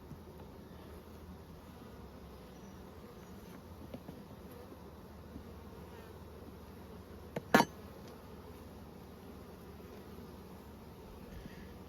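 Honeybees hum in a low, steady drone at an opened hive during inspection, with a brief sharp clatter partway through.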